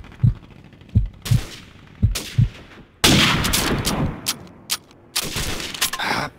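Gunfire in Call of Duty 4 Modern Warfare during an online sniper match: sharp single shots at first, then a sustained burst of rapid automatic fire and more scattered cracks, loud and close.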